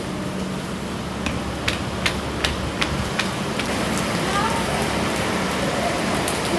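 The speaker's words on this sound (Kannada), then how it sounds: "ಮಳೆ ಬರ್ತಿದೆ ಗಾಯ್ಸ್" Steady rain falling outdoors during a power cut, a dense even hiss with a few faint ticks scattered through it.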